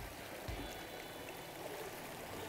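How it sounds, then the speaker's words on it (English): Faster-flowing creek water rushes and trickles steadily at close range, a continuous broadband wash with no voices. "And I'll even get some faster flowing water back here."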